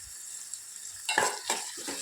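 Onions and turmeric stirred in a pan for a quick carrot curry, with a low sizzle and then a few close scraping spoon strokes in the second half, alone.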